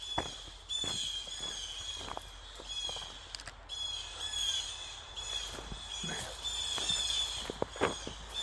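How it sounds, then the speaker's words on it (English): Birds call loudly from the trees above a forest trail, with a sustained high chorus of chirps and calls and occasional sharper bursts in a steady outdoor background. "I don't know what kind of bird that is, but they are howling away up there."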